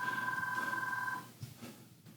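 A cell phone rings with a steady electronic trill, pulsing rapidly for over a second before cutting off, fairly faint in a room with a few soft noises after.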